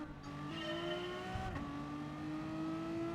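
Race cars in Gran Turismo Sport, a four-lap race featuring wide Bugatti Veyrons, with steady high-pitched engine whine rising in pitch as they accelerate, a brief shift or scuff midway, loud and continuous without talk.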